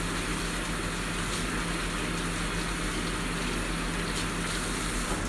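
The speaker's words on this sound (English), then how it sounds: "You have to use soap and hot water to clean all the chicken bugs off your fingers." Hot water runs steadily from a kitchen tap while hands are scrubbed with soap after handling raw chicken, a continuous close gush with no talking.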